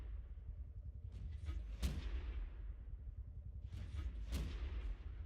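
Tank guns firing in World of Tanks on a Leichttraktor-era light tank with a small pop gun and micro autoloader: two sharp booming shots a few seconds apart, each with a rumbling tail over low background noise.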